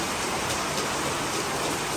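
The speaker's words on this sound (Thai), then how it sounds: "ฝนตกพี่น้องจ้า" Rain falling at a rural home, a dense, loud, unbroken wash of rain that fills the whole stretch with no other sounds standing out.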